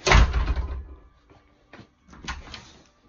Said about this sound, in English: So now the door closed, no problem.